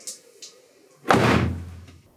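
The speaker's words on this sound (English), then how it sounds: "Pop the engine cover back on" A single solid thud as an Audi TTS engine cover is pressed shut, preceded by a couple of faint light taps.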